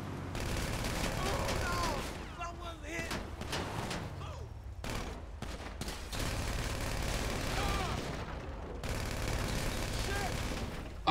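GTA Online gunfire crackles in rapid bursts and sustained volleys during a drug-wars mission, loud and near throughout, with a player talking over the shooting at times.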